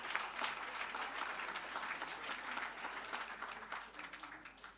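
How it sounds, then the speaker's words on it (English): Fairly faint but steady applause from a conference audience thanking a panel, continuous clapping with no break. "Let's give them one more round of applause."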